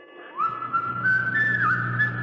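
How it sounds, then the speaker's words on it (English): Someone whistles a steady, clear melody up close in a radio drama, one sustained line of notes with small pitch glides over a low background hum. "Somebody's whistling."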